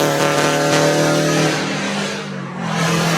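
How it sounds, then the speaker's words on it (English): A Subaru fitted with a Tomei Expreme Ti titanium exhaust revs up, a loud, raspy, close-up engine note that holds high, dips briefly and then climbs again. "If you don't like the sound of it, then fine. But I don't think the hate is deserved for the Extreme TI exhaust"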